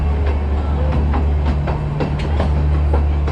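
A diesel amusement park train ride at Blackpool Pleasure Beach rumbles along its track with a loud, continuous low drone and repeated clickety-clack wheel beats, close and unbroken, with no one speaking.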